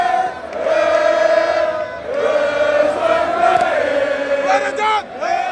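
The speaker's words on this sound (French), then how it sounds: "Le leader politique fait son entrée sous les acclamations." A large crowd at a Tera Meeting political rally roars and chants as political leader Ousmane Sonko enters, a loud sustained wall of voices with rising whoops and shouts layered over one another.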